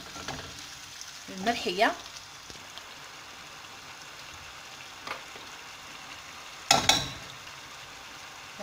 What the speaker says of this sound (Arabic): خليو الكل يتقلى مع بعض